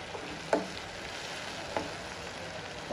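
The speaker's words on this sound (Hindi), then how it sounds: "अब हम इसमें डाल देते हैं 1/4 चम्मच नमक स्वाद अनुसार, और टमाटर को अच्छे से भून लेते हैं" Chopped tomatoes with salt sizzle steadily in a hot pan for dhaba-style sev bhaji, a constant close frying hiss broken by two sharp clinks of a spoon stirring against the pan.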